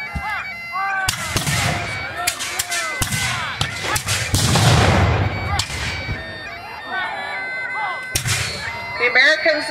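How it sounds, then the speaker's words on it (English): Cannons boom repeatedly at an 1812 battle reenactment in Jalapa, Indiana, several loud sharp blasts with rolling echoes spread across the stretch, mixed with crowd noise and talk in between. "Americans and the British are still firing their cannons at each other."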